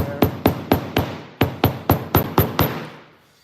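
A hammer taps lightly on a cowboy boot about ten times in a steady rhythm, each sharp, close knock ringing briefly before the last one fades out.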